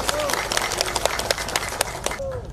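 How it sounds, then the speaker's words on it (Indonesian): Audience applause fills a political gathering, dense rapid clapping from a crowd sustained throughout, with faint voices mixed in. "tepuk tangan buat semua yang hadir di sini"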